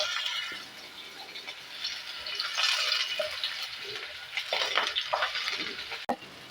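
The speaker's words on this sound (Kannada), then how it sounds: "ಟೊಮೊಟೊ ಸ್ವಲ್ಪ ಎಣ್ಣೆಯಲ್ಲಿ ಫ್ರೈ ಆಗಲಿ" Chopped tomatoes fry in oil in a pan for a chilli chutney, a steady bright sizzle with scraping stir strokes and a brief sharp clink near the end, no voices.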